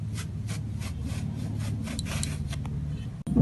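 A knife slicing eggplant into thin pieces for beguni, a steady run of rapid rasping cuts against a board, close and even, ending with a sharp knock.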